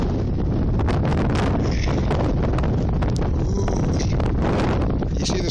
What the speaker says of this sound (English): And it's windy as mother goober.